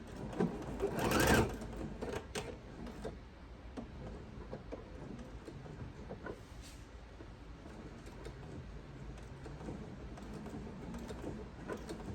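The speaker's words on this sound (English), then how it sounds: "I'm going to sew 1/4 of an inch straight across, keeping my raw edges together" A sewing machine stitches a quarter-inch seam across the cuff of a fabric pot holder for an oven mitt, with a louder whirring burst near the start and then quieter, steady mechanical running and small clicks.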